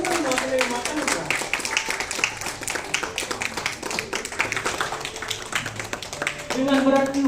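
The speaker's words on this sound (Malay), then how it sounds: "kita berikan tepukan kepada penerima anugerah" An audience claps for award recipients at a Sabah state-level National Environment Day ceremony, a dense patter of many hands running throughout while an announcer's voice speaks over it.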